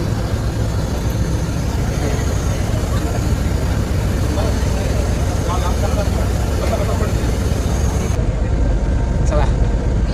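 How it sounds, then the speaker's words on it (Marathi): A crowded airport bus carries passengers out to the aircraft, its engine rumbling low and constant throughout, with people chattering close by. "चला आता बसमध्ये बसले सगळे आम्ही"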